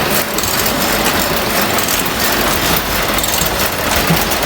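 A machine weaving a Pattamadai grass mat in Tamil Nadu gives off a steady, loud mechanical clatter and whir that runs without a break, with dense rattling throughout and no talking.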